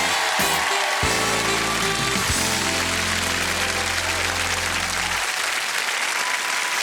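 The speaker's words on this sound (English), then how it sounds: "let's have applause for Steve Edward" Studio audience applause on the TV talent show Stars in Their Eyes, loud and sustained for about five seconds, with band music playing over it before fading.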